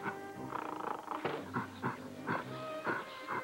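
A dog whimpers and whines in a TV commercial, several short nasal cries and groans in quick succession with a faint growl, close and fairly loud with no talking.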